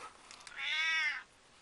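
An indoor house cat lets out one clear, drawn-out meow lasting about half a second, heard faintly after some quiet shuffling.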